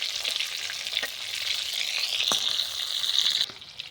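Prawns sizzle steadily as they fry in oil in a pan, a close, continuous crackling hiss that swells slightly and then drops off abruptly near the end.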